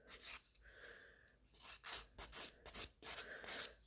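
A nail file rasps against the free edge of a gel nail in short, quick back-and-forth strokes, close but faint, with a brief pause before steadier bursts of filing.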